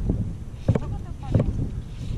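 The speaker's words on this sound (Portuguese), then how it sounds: "Começa uma ventania dos infernos." Strong gusting wind buffets the microphone during fly fishing from a boat on the water, a steady low rumble with two louder gust bursts, while people speak briefly.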